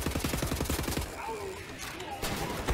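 Rapid bursts of automatic gunfire in the first second of Wolfenstein: The New Order, loud and close, then tapering into quieter game ambience with another sharp burst near the end.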